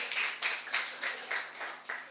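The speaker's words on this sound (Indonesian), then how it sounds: "Tepuk tangan buat Tuhan." A church congregation claps together in a steady rhythm, about seven distinct claps spread over two seconds, close and moderately loud with no talking.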